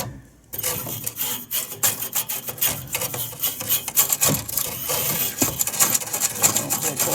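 A stiff brush scrubs the interior and parts of a portable air conditioner: continuous, close, scratchy rubbing and rasping that starts after a brief quiet moment and holds steady throughout.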